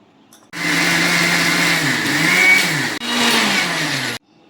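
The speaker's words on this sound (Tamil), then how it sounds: "அரைச்சிட்டு வந்துடுறேன்." A mixer grinder grinds coconut chutney with roasted gram and salt, whirring loudly for several seconds, briefly cutting out and restarting before stopping abruptly.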